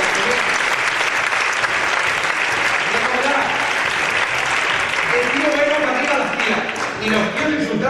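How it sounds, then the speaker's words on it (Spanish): Crowd at a live comedy-style show giving loud, sustained applause, dense clapping throughout with faint voices mixed in and slight swells near the end. "Fuerte aplauso por él también"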